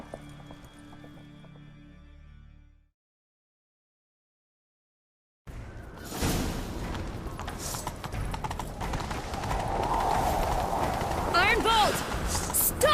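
Hooves pound in a steady galloping rhythm in a fantasy role-playing game, loud and continuous after a brief silence, with characters talking over the ride.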